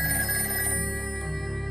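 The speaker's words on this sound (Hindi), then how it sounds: "फ़ोन की घंटी अपने आप बजना शुरू हो गई" An old telephone bell rings in a horror story, a steady electronic-sounding ring that continues alone and fairly loud, without pause, as a sound effect.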